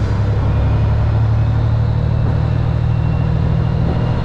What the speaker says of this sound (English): Rev it up, let the RPM fall, put it in the gear.